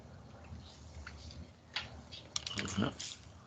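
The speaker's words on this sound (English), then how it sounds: "Press on your keyboard tab." Computer keyboard keys pressed while entering numbers into a math problem, a few scattered soft clicks followed by a quicker cluster of taps near the end, close and fairly quiet.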